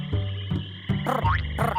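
A cartoon frog croaks in a series of deep, resonant, bubbly croaks with a rising squeaky chirp in between, loud and close, with no speech.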